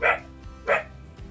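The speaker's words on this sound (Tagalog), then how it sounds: "Diyan na naman asong ito." A dog near a pool at night gives two clear, loud barks about half a second apart, followed by a softer third sound.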